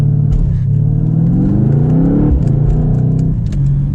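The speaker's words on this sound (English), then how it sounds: "I will do one more acceleration just for you. Sport Plus is the way to drive this car." Mercedes C63 AMG Convertible accelerating hard in Sport Plus mode, a loud, close engine roar that climbs in pitch through the gears, with brief dips at each shift and no talking.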